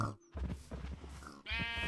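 Sheep in the video game Minecraft bleat in short, clear calls, one brief bleat followed by a longer wavering one, close and fairly quiet with no talking.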